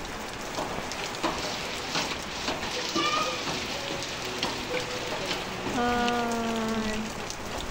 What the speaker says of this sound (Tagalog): Malamig yung panahon, umuulan.